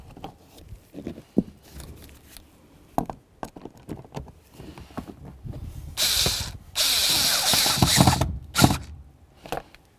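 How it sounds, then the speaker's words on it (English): A Phillips head screw is driven in by hand on a 2009-2020 Dodge Journey during rear strut and spring work. Scattered close clicks and taps come in short irregular bursts, with a longer hissing, rasping stretch in the middle. "We're going to go ahead and put in that last Phillips head on this side."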